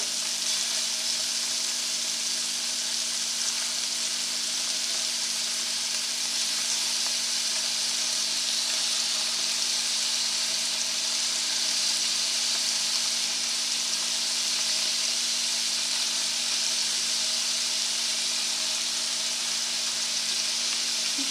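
Scallops pan searing in a hot pan give off a steady, close sizzle and crackle that holds at an even level from start to finish, with no voices over it.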